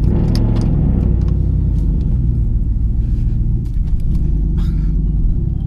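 A Ford F150 pickup with an aftermarket exhaust system rumbles low and heavy near a cold start. The deep drone stays loud and steady, with small wavers in the engine note and a few faint clicks on top, and no one talks.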